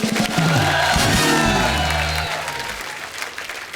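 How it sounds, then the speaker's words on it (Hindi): A TV comedy show studio audience bursts into loud applause mixed with cheers and whoops, the clapping dense at first and gradually fading. "एक बार खुल के तालियां हो जाएं"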